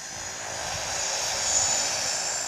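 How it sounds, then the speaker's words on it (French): Seaplane engines drone steadily over water in the Maldives, a constant airy roar at moderate distance that swells slightly and holds without a break. "Chaque jour, ils assistent à un balai incessant d'amérissage et de décollage d'hydravions"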